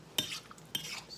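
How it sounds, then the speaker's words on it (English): A spoon stirring seasonings into a pot of turkey knuckle stew, with two quick clinking scrapes against the pot, faint and close, no talk. "I'm gonna stir it up."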